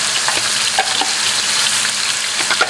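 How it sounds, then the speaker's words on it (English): Hot oil sizzles loudly and steadily in a wok, a dense continuous crackling hiss with faint scraping bursts, close up and with no voices. "now I've got some oil heating in the wok"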